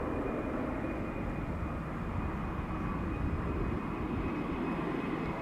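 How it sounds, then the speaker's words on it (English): An Embraer 190 airliner taxis at Amsterdam Schiphol, a steady low engine rumble with a thin high whine, distant and constant throughout, no voices. "one of the Embraer 190s is entering or is splitting up via Cheaters Lane"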